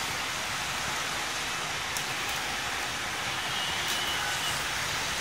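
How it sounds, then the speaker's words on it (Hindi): Heavy winter rain pours down in Karachi, a dense, steady hiss of drops on surfaces that holds loud and unbroken throughout, with no voices. "ठीक ठाक तेज बारिश हो रही है कराची में"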